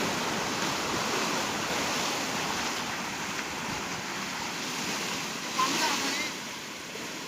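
Sea waves wash steadily at Tambaldeg beach near Mithbav in Devgad, Sindhudurg, a continuous broadband surf roar mixed with wind buffeting the microphone, and a voice briefly speaks over it.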